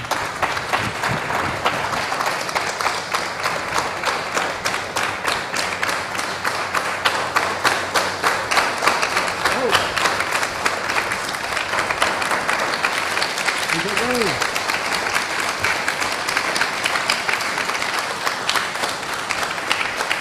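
A devotional gathering at ISKCON Dwarka breaks into long, steady applause after a special class, dense rhythmic clapping from many hands that continues for the whole stretch, with a voice briefly audible beneath it.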